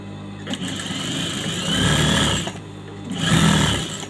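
A sewing machine hums steadily while stitching chudidar fabric, in two long runs with a brief break between them, loud and close, with no speech.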